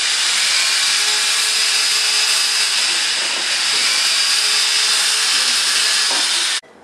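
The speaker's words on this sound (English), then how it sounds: "This is the 12 mm flexible reamer I am passing." A 12 mm flexible reamer is driven into a femur during subtrochanteric fracture nailing, giving a loud, steady high-pitched whirring hiss of a powered reamer that runs continuously and cuts off abruptly near the end.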